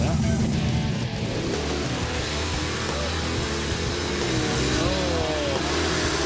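Loud, sustained engine roar from a drag racing car during a mini burnout, with revving that swells and eases over a constant mechanical drone, and people talking faintly underneath.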